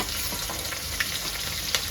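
Onions and green chilies fry in hot oil for chicken biryani, giving a steady, close sizzle with small crackling pops throughout and no talking.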